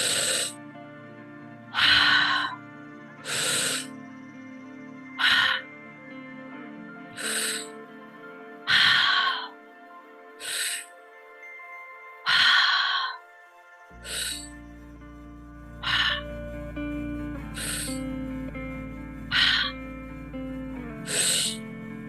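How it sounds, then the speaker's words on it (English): Deep, slow breaths drawn in and pushed out through the mouth during a guided breathing session, about ten long airy pulses at a steady rhythm, close and clear, with a low hum entering partway through. "Nice deep breaths in through the mouth, out through the mouth, deep into the belly"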